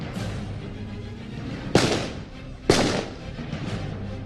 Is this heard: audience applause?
no